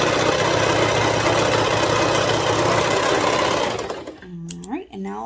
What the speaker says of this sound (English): you're going to sew the entire crotch curve